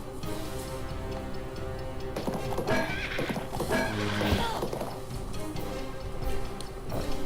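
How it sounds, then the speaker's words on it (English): Horse neighs and clip-clopping hooves from the Battle for Wesnoth strategy game ring out over a steady music bed, a whinny rising mid-clip among layered sound effects. "Horse moved a little further than I expected."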